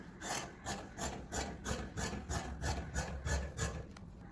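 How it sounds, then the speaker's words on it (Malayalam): Scissors cutting fabric for a kaftan nightie, a close, soft rasping in about a dozen steady evenly spaced strokes. "അപ്പോൾ ഇത് നമുക്ക് കട്ട് ചെയ്ത് തരാം."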